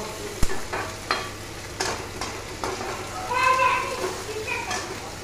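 Onions frying in a pan over a gas flame for a tomato-onion green chili chutney, with a steady sizzle, scattered stirring scrapes and some voices nearby.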